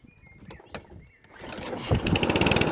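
An Atco Balmoral cylinder lawnmower engine with a Dellorto carburettor, first a few clicks and pulls, then the engine catching and running with a rising, rapid popping putter toward the end.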